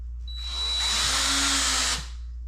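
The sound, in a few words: power drill driving screws into a support beam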